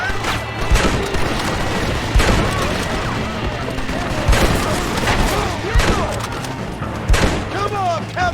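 Machine gun fire in Red Dead Redemption, dense continuous rattling gunfire with scattered heavier booms, loud and sustained, with shouting voices mixed in.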